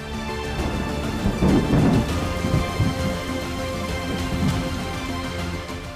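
Heavy rain pours steadily during flooding in Maharashtra, a dense constant wash with louder surges and faint rumbling beneath, no voices.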